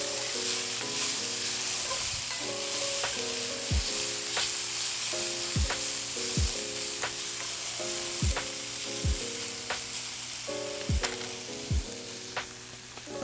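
Vegetables browning in a pan for green bean casserole sizzle steadily while a spoon scrapes and stirs in regular strokes, with a repeating musical background running underneath and no talking.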